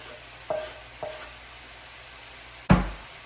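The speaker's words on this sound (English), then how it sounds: "Stir it." Spoon stirring freshly chopped parsley into a spinach and ricotta cannelloni filling, two light scraping taps followed by a louder clunk against the bowl, close and alone.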